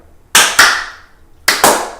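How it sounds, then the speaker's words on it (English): Two pairs of sharp hand claps, close and loud, each pair quick with a pause between, in an otherwise quiet home kitchen. "Now we need to do a final clap."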